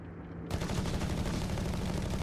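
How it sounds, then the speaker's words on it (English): Machine gun fire in Company of Heroes 3 starts abruptly after a brief quiet moment, then continues as a dense, steady rattle of rapid bursts that mixes with other battle gunfire at a moderate distance, with no voices. "Machine gun up here with the Grenadiers in the north."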